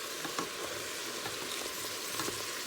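Ground meat browns on the saute setting of an Instant Pot while a utensil breaks it up, a soft, steady sizzle with light scraping taps, close and fairly quiet, no talk.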